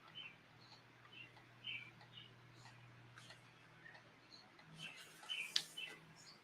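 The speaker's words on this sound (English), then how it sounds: "I hear birds outside." Birds chirp outside, with faint, distant, scattered tweets and short calls heard indoors over a low steady hum, a few brighter calls clustering near the end.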